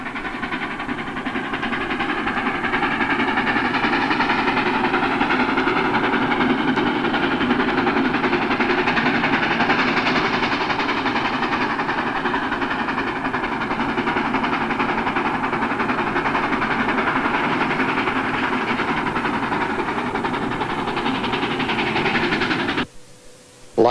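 A K4 Pacific steam locomotive and its train rumble past at Nanuet with a loud, continuous roar and mechanical clatter that holds steady for over twenty seconds before cutting off abruptly.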